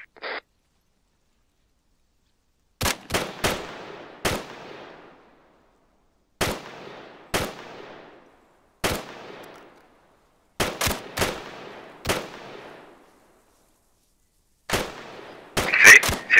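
Rifle shots fired at targets on a 100 m range during initial training, heard as sharp single cracks in spaced groups of two or three, each trailing off in a rolling echo, with long quiet gaps between volleys.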